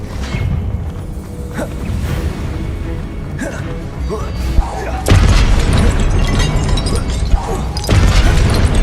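Confringo fire spells burst in Hogwarts Legacy combat as a series of heavy booms and crashes, the biggest hitting midway and near the end, layered over dense game effects and shouted spell names.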